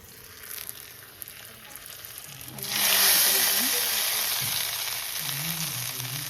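Dal tipped into a pan of cooked tomatoes with Kashmiri red chili: a steady low sizzle swells into a loud, broad hiss about midway and keeps frying through stirring, with faint voices underneath.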